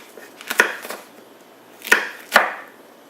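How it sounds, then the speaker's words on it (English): A knife on a cutting board rough-chops red and green bell pepper, striking in a few distinct, sharp chops with gaps between them. The chops sound close and crisp, with no talk. "it's a little rough chop"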